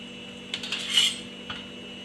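A knife cuts through steamed dal batti on a plate, giving a few light clinks and scrapes of metal against the dish, close and faint over a steady hum, with no talking.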